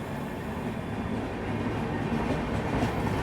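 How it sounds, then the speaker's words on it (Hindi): An express train hauled by a WAP-7 electric locomotive accelerates after joining the main line, heard from inside as a steady, loud rumble of wheels and rails with faint rhythmic clatter and no talk. "अब देखिए, जैसे ही ट्रेन ने मेन लाइन पूरी ज्वाइन की, एक्सेलरेट करेगी अभी ये। वेब 7 का एक्सेलरेशन"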